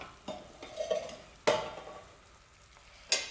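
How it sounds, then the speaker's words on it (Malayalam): Chili masala for a toddy-shop style fish head curry bubbling in a pan, with a soft steady simmer broken by a few sharp stirring scrapes and knocks, close and without voices. "അപ്പോൾ കണ്ടോ, മുളക് നല്ലവണ്ണം തിളച്ചു."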